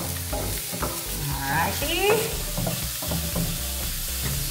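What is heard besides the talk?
garlic and onion frying in oil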